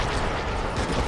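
Blasting at a turret in the LEGO Star Wars: The Skywalker Saga video game, Episode VII level: a dense, continuous stream of loud gunfire and explosive bursts fills the clip with no pauses.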